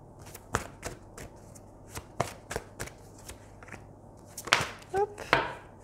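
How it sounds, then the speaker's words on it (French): Tarot cards shuffled by hand in a steady series of crisp riffling flicks, building to a few louder, denser shuffles near the end, close up with no talking. "Je prends le temps de bien battre les cartes."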